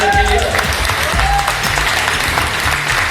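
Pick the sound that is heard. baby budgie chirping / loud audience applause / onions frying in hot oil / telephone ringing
loud audience applause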